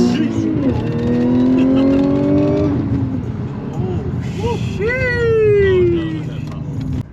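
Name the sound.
Audi S5 accelerating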